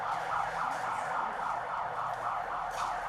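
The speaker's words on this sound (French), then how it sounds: "Il sonnait exactement 8 heures quand la sirène retentit, donnant ainsi le top de la première épreuve." A siren wails steadily at an exam centre in Benin, marking the start of the first paper of a national examination at 8 o'clock, sounding continuously and fairly loud with a rising and falling tone.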